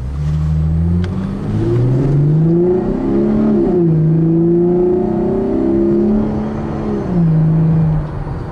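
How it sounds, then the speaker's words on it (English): A 2011 Chevrolet Camaro 1LT's V6 engine revs up and down repeatedly, its intake roaring loudly and continuously with rising and falling pitch, heard from close inside. "Hear that intake"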